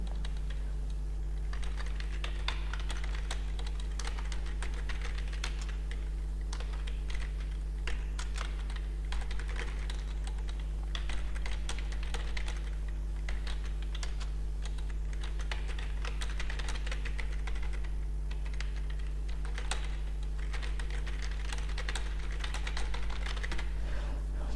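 Continuous close typing on a computer keyboard as lines of text are entered, a rapid steady patter of key clicks with brief pauses over a low steady hum, and no talk.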